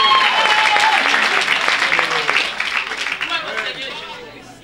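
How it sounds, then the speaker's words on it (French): A church congregation bursts into dense applause and cheering, loud and sustained at first, then thinning and fading over a few seconds amid scattered voices. "Donne une grande acclamation à Jésus de Nazareth."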